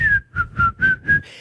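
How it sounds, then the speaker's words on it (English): A person whistles a short tune, five clear, loud, close notes in a bouncy rhythm with brief gaps between them, with no talking. "Give a whistle while you work"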